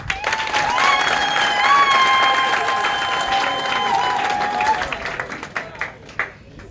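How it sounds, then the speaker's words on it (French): Applause and cheering fill a crowd at a political speech in Gabon. Loud, dense clapping swells and holds, then thins into scattered claps near the end. "Je voudrais vous prier de bien vouloir faire une ovation pour vous tous et vous toutes qui êtes là."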